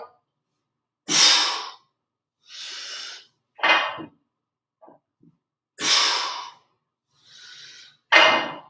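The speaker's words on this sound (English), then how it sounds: "getting that big breath in, hold it, wait, then exhale, right as you're getting to the top" Heavy breaths during deadlifts: sharp inhales and forceful exhales come in separate bursts, close and loud, with short silent holds between them.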